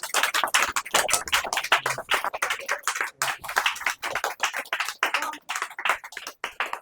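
A crowd at a Christian religious gathering claps continuously, a dense patter of many hands at close range that rises and falls slightly without stopping.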